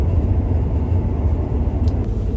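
Passenger train running toward Ipswich, a steady loud low rumble and roar heard from inside the carriage, continuous throughout with a faint brief high squeal near the end and no talking.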